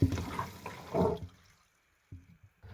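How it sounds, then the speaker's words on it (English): Water gurgles and drains out of a newly installed sink on a small boat under refit, a brief close burst of draining, then near-silence and a few small drips and gurgles. "first bit of water draining out"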